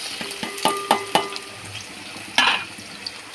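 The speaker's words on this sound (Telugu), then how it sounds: "ఆనియన్స్ గ్రీన్ చిల్స్ బాగా ఫ్రై చేసుకొని" Onions and green chillies fry in hot oil in a pan, with a steady low sizzle broken by several sharp stirring clanks of a spoon against the pan, close and without talk.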